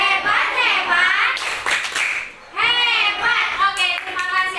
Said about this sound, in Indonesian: Kita kasih tepuk hebat.